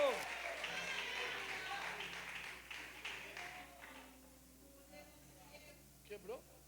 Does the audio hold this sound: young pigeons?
no